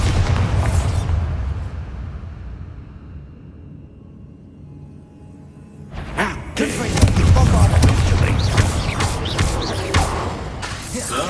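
A Bombarda explosion spell in Hogwarts Legacy bursts with a loud boom and rumbling debris around six seconds in, after an earlier heavy thump and a quieter pause, with battle noise continuing afterward.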